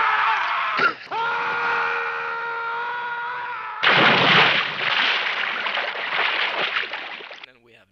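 Actors scream in the 1977 animated film Wizards. A sustained, wavering wail runs for several seconds and breaks off. It is followed by a loud, harsh burst of noisy screaming that tapers away near the end.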